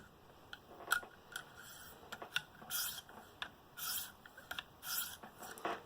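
An M4 steel Spyderco Manix knife edge being deburred on a KME sharpener, with short scattered rasping strokes and light ticks of stone against metal, quiet and close, without talk.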